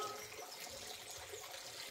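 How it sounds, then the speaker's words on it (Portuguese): Spring water pours steadily into a concrete tank at a rural property, a continuous soft splashing rush heard alone and fairly faint. "a água caindo ali, ó, como está, vindo na vertente, ela oxigena a água"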